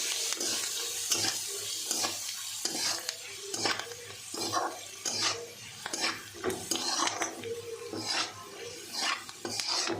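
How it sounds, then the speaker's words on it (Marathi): Red chili powder, salt and turmeric sizzle in a hot pan as a utensil stirs and scrapes in steady repeated strokes, with clinks against the pan, close by and fairly soft. "आता टाकूया हे लाल तिखट, मीठ, हळदी पावडर. हे सर्व आपण असं फ्राय करून घ्यायचं"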